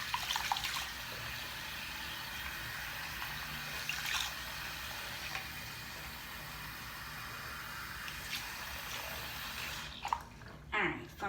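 A bathroom tap runs hot water for washing makeup brushes, a steady soft hiss of flowing water that goes on unbroken and stops near the end.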